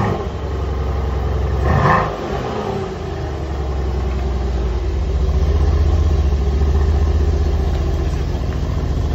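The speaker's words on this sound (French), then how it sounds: "Donc là on va avancer les voitures au garage" A Mercedes-AMG C63S is driven off a delivery truck toward a garage, its engine a steady, loud low rumble close by, with a brief louder surge early on before it settles back to a sustained idle-like drone.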